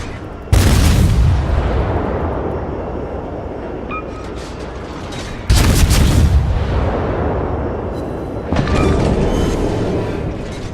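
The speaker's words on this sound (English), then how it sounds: "We'll throw one more salvo into him and let him burn." Main-gun salvos from an Erie-class warship in World of Warships boom loudly three times, each sharp blast followed by a long rolling decay.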